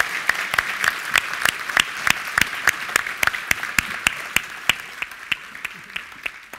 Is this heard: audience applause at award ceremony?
yes